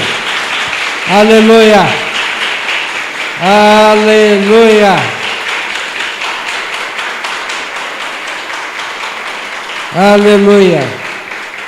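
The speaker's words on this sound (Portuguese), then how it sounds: "Uma salva de palmas a Jesus." A church congregation applauds for Jesus in a dense, sustained patter of clapping that runs throughout, while a voice sings out three long calls over it.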